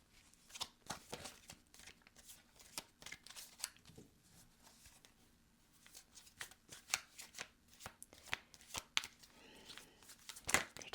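Tarot cards shuffled by hand in a quiet room, a long run of crisp riffling snaps and soft slides that build to a louder burst near the end.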